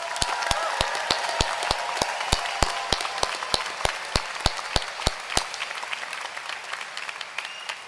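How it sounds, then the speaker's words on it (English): Graduates at a winter university commencement ceremony receive another round of applause, a steady crowd ovation with sharp, regularly spaced individual claps cutting through the wash of hands throughout. "this outstanding group of graduates deserves another round of applause"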